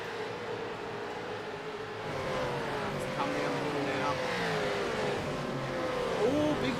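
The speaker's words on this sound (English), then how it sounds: "What a great sound the cars are." V8 race cars in a veterans round at a circuit roar past, a rising engine drone of several cars with shifting pitch, sometimes faint and sometimes building, heard under the hum of the track.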